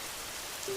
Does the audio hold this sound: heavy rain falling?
yes